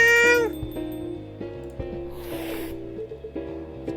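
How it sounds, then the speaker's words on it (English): A cat meows once, loud and close, in the video game Coffee Talk 2, followed by a soft repeating game music loop and a brief airy whoosh. "this is a local cat"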